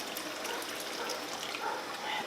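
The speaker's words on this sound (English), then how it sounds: "I want to add some water. It's handy to have a tea kettle." Water pours steadily from a tea kettle into a tall canning pot that is already at a boil, a close, continuous splashing gush.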